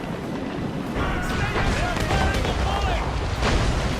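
Ship cannons fire in the Assassin's Creed Rogue video game, a continuous rumbling barrage of booms during a naval battle against a fire ship, loud and sustained, with shouting voices over it.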